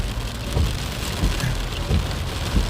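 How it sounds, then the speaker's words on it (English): Heavy, steady rain drums on a surface near a parked car outside a building, a dense close hiss with low thuds that swell and ease, and no one speaking. "And the rain is getting more intense."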